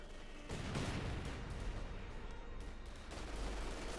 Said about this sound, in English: Grenadiers taking a stray hit there from a mortar.